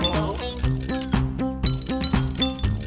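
Ice clinking as a percussive element in a Friday Night Funkin' mod song, bright glassy clinks repeating in a quick rhythmic pattern over the music's beat and bass line.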